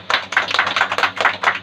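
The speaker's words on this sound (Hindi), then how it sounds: "सब जोरदार ताली बजाओ।" A few people clap in a quick, fairly even rhythm at a church service, about seven sharp claps in under two seconds, close by and without talk.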